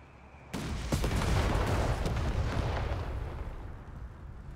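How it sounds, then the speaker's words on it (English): A single grenade blast in a World War II-style strategy game, a sudden loud burst followed by a few seconds of rumbling, crackling debris that gradually fades. "Could be a grenade on its way."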